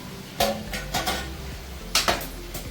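A metal lid set onto a pot of fish curry on the stove, a few sharp clinks and clatters of metal on metal, fairly close, over a quiet low simmer.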